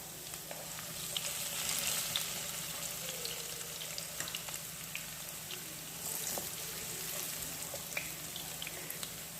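Jackfruit seeds rubbed with asafoetida fry in oil in a pan for a Kerala lunch, giving a steady close sizzle with scattered pops and crackles and no talking.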